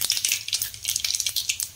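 Asafoetida, with mustard seeds and cumin, spits and crackles in hot oil being prepared as a tempering, a close, brisk sizzle with rapid popping pulses and no talking.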